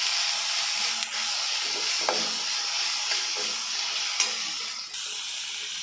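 Mint and coriander leaves fry in a pan for a broiler chicken pepper dry, giving a steady close sizzling hiss with a few soft clicks and scrapes of stirring.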